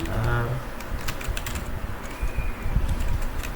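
Brisk typing on a computer keyboard, a rapid run of clicky keystrokes, close and fairly loud over a low background.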